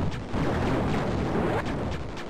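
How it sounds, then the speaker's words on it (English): Allied gunfire in a shooter video game: sustained, dense rattling and booming shots that continue without a break, loud and close, with no voices. "These guys don't care that they are shooting me in the face."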